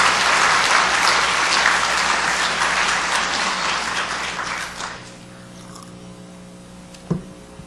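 A lecture audience applauds warmly at a 2008 talk in Korea, dense clapping for about five seconds before fading out to room quiet and a single soft thump.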